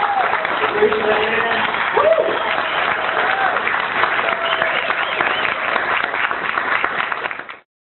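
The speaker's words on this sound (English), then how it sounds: "I just want to round of applause for you guys" Sustained applause from a crowd at an Occupy gathering in Eugene, steady and dense clapping that holds at an even level for several seconds before cutting off, with some voices mixed in.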